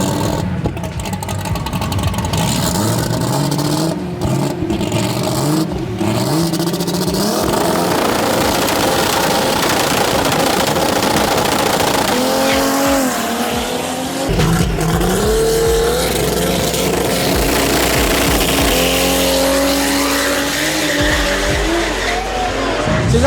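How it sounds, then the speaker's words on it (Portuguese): Drag racing cars launch on two-step turbo setups, loud engine revving and crackling with tire squeal, rising and falling in repeated surges up close for the whole stretch. "Vocês assistiram agora aí o que é o two-step, é encher a turbina para conseguir largar."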